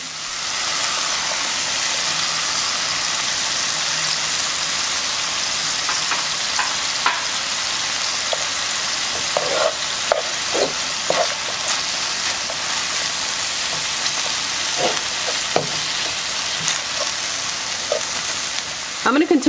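Al pastor pork sizzling and crackling in hot oil with a constant hiss, punctuated by occasional scraping and stirring clinks, close by.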